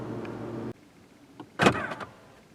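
An electric glove box in a 2023 Volvo XC90 Recharge Ultimate pops open with a short motorized whir and soft clunk, close by, after a steady low cabin hum cuts off into quiet.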